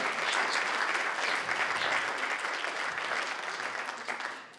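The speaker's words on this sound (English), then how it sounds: "let's give them a round of applause" Sustained audience applause at an annual meeting, dense and steady clapping from a crowd honoring a board, tapering slightly at the end.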